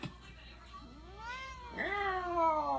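A Scottish Terrier-named cat gives two drawn-out, rising-and-falling meows close by, the second louder and longer, with quiet room tone and no talking.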